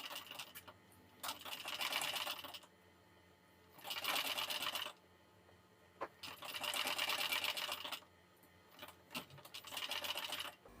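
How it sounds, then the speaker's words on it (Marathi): A sewing machine slowly stitches around a blouse neckline in four or five rhythmic bursts of close whirring, each lasting a second or two with quiet gaps between them, fairly soft overall. "तर आता आपण इथून सावकाश शिलाई देऊन घेऊयात"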